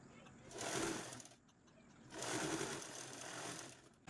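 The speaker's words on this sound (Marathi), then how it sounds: "या पद्धतीने आपल्याला स्टिच करायला सुरुवात करायचं आहे" A domestic sewing machine stitches a blouse in two quiet bursts of rapid mechanical whirring, separated by a short pause, heard close but faint.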